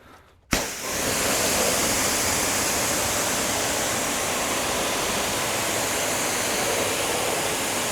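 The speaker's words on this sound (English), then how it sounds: "now let's rinse it off, the acid pre-wash." A pressure washer rinses acid pre-wash off a Porsche Macan, bursting on abruptly after a brief quiet start and then hissing in a loud, steady, close spray that holds to the end.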